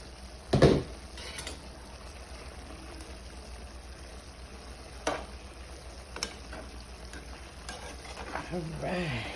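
Garlic, bell pepper, shallots and onions fry quietly in a pan, a low steady sizzle with a few sharp knocks of a utensil against the pan, and no one speaks.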